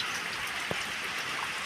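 Steady rain falls on a house roof, a dense continuous hiss of drops with one brief louder drip, fairly close and alone without voices.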